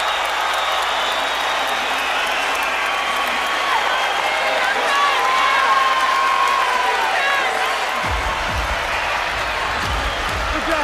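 Boxing crowd roaring for Terence Crawford during his fight with Raymundo Beltran, a loud sustained wash of cheering with a commentator talking over it.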